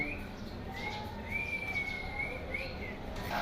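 A sparrow chirps in a steady run of short, bright calls over a noisy background, with a few louder chirps midway and toward the end.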